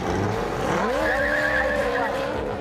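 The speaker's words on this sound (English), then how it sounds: "Hamilton finished the lap by drifting as much as possible" A Formula 1 car driven by Lewis Hamilton drifts through a lap, tires squealing in a long rising and wavering screech over a steady engine roar, loud and close throughout.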